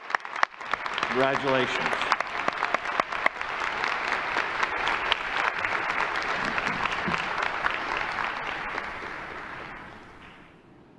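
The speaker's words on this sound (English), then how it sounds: "early applause there" Audience applause fills a university commencement ceremony, steady and loud for about ten seconds before tapering off, with a brief spoken word from the stage near the start.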